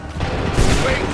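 A massed volley of musket gunfire erupts in Assassin's Creed III, a loud, dense burst of overlapping shots and booms filling the whole moment.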